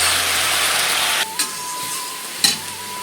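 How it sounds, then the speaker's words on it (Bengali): Spice masala with coriander powder and meat masala sizzles in a pan while being stirred, a steady hiss that drops off midway, followed by a couple of sharp scrapes and clinks of the spoon against the pan. "মশলাটিকে একই সাথে নাড়াচাড়া করে নেব"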